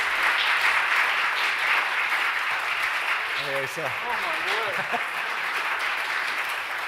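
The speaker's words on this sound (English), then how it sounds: "I'm just going to get that in a big round of applause" An audience at the Bridport Business Awards 2021 claps in loud, sustained applause for a winner. Brief voices speak over it midway while the clapping continues.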